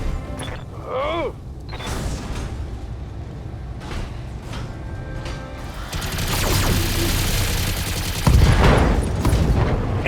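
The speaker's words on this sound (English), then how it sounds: "Ammo explosion." Gunfire and an ammunition explosion in the BattleTech video game: mechanical clanks and whirring, then a sudden loud blast followed by sustained rattling fire and crashing debris, growing louder toward the end.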